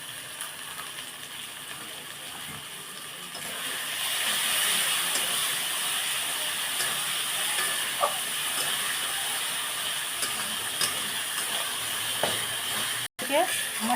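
Cumin and coriander powder frying in oil for a broiler chicken curry, a soft steady sizzle and hiss with a few light utensil clicks near the end.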